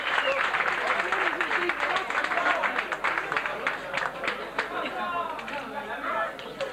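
Spectators at a trophy competition's expression session applaud, a lively burst of clapping mixed with crowd chatter and cheers that tapers slightly toward the end.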